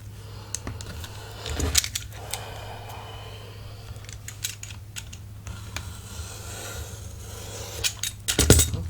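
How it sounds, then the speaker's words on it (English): Paper is cut for a junk journal, with scattered snips and crisp rustles over a low steady hum, including a louder cluster early and another near the end. "so I'll just cut off 1 inch on this end over here."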